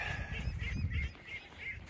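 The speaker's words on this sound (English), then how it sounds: "Here come the other ducks wondering what is going on." Khaki Campbell ducks call nearby in a short burst of nasal, honking quacks, several overlapping calls over about a second, then quieter scattered calls with no talking.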